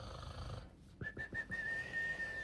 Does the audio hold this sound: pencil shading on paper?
no